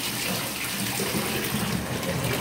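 Bath water rushes from a bathtub in a steady, loud, close gush that continues without a break.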